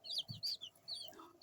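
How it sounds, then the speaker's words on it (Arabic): White broiler chicks on their first day on a poultry farm cluck and peep softly in short bursts, close by, with no talking. "بصوا الفرخة معانا عاملة ازاي"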